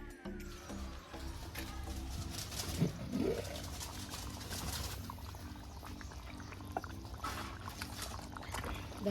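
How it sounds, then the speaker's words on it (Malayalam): Heavy rain pours into a bucket with a continuous gushing, splashing wash of water that stays fairly even in loudness throughout. "നല്ല മഴയുന്നു ഇപ്പോൾ."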